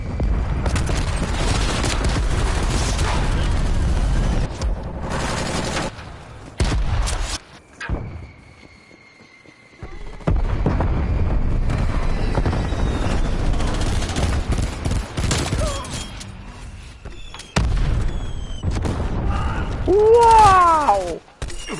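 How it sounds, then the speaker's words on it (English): Cruise missile strike in a military shooter video game, with repeated heavy explosions and bursts of gunfire, loud and dense, broken by a brief near-silent lull, with faint game voice callouts in places. "Cruise missile inbound."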